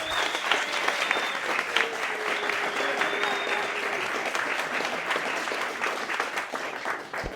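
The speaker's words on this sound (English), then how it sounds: "let's give him a round of applause" A crowd at an award ceremony claps steadily in sustained applause, a dense patter of many hands at an even level, with a few faint voices mixed in.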